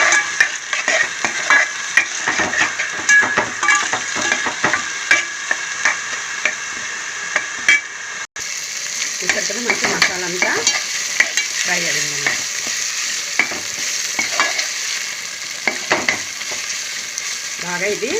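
Ground masala paste frying in a pan for mutton curry, a continuous close sizzle with frequent spatula scrapes and knocks against the pan, busier stirring in the second half.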